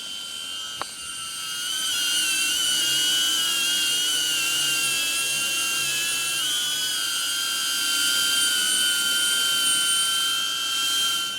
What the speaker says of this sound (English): turning on the propeller, you already hear that high-pitched sound